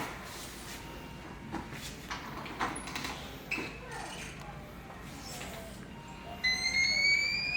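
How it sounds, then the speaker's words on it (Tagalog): A hotel room door opened from inside at a budget hotel in Cubao, with a series of soft clicks and knocks from the handle and lock, then a rising electronic beep as it opens; people talk faintly around it. "Sino magbubukas ang pinto natin?"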